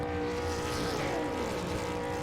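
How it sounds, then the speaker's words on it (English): Dense, continuous engine roar from several race cars held at high revs while pacing behind a pace truck, steady and loud throughout with no talk. "you can hear the guys holding the engines to the floor right now"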